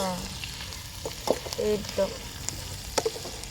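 Bitter gourd (karela) half-fried in a pan makes a low continuous sizzle, with scattered spatula clicks and scrapes up close.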